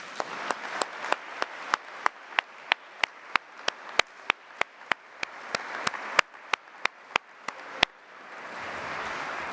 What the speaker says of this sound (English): Can we please give everyone who's standing a round of applause?